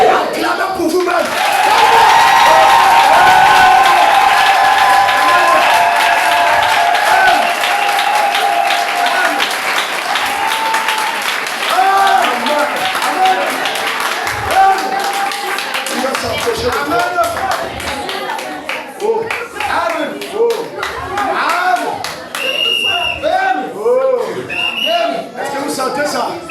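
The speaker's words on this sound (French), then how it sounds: "Acclamez pour vous-même." Loud, sustained applause and clapping from a congregation at a French-language religious gathering, dense at first and then thinning into scattered claps mixed with crowd voices and shouts.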